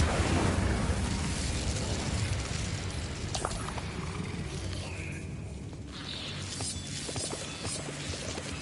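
Confringo explosive spell in Hogwarts Legacy, a fantasy video game: a continuous booming, rumbling blast with scattered crackling bursts and debris-like clatter, moderately loud and steady throughout.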